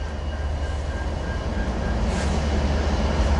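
An outbound Z freight train with an H1 locomotive trailing fourth, a loud steady rumble of engines and rolling cars close by with a faint high whine.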